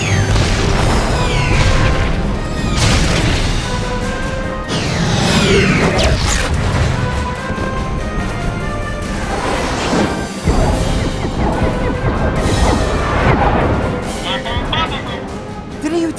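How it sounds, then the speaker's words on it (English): Rocket explosions from the Star Wars Rebels show boom and crash repeatedly over dense action music and effects, loud and continuous, with shouting voices in the mix. "Rockets! Rockets!"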